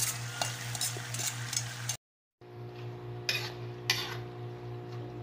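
Sardines and chopped chayote sauté in a pan, a steady sizzle with metal utensil scrapes and stirring clatters, briefly cut to silence before the frying and sharp clinks resume.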